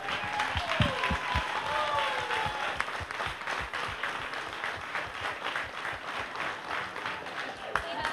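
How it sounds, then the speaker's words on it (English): An audience at a Down Syndrome Association charity calendar event applauds, steady sustained clapping from a crowd that carries on throughout, with some speech mixed in. "Let's give him another round of applause."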